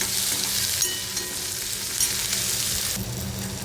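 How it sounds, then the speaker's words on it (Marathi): Chopped tomatoes and onions sautéing in a pan, a constant bright sizzle heard up close, with a few faint stirring clinks and no voices. "आता टोमॅटो घालूया आणि टोमॅटोसुद्धा कांद्यासोबत पुन्हा परतून घ्यायचं आहे।"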